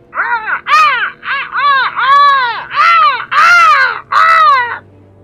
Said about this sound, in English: As he does this, the ravens begin, as you've been hearing